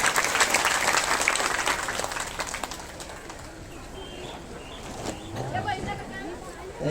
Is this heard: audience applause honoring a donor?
yes